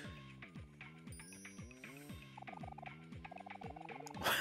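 A bird in the Omori video game gobbles like a turkey, a rapid run of loud rattling calls repeated over and over, alone without talk.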